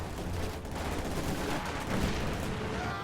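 Gunfire in a World War II strategy game battle with Panzer Grenadiers and HMG units, a dense, continuous rattle of shots and explosions that holds steady at moderate loudness throughout, with no voices heard.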